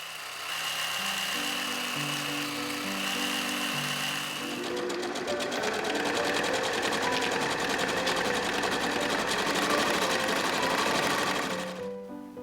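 A home sewing machine stitching seams on children's pants, a steady rapid mechanical whirring that runs continuously and picks up speed partway through before stopping, close and prominent.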